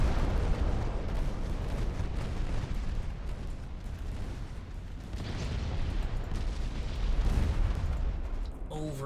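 Naval gunfire and explosions in the warship strategy game Ultimate Admiral Dreadnoughts: a dense, continuous rumble of heavy booms and blasts that rolls on without a break, with no talking.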